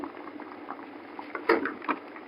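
A pot of mung bean stew with okra and squash bubbles at a soft, close simmer, with small irregular pops and one louder plop around the middle.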